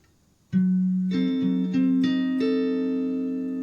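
Acoustic guitar fill from a song, a few plucked notes ringing out clearly and sustaining, played alone and close.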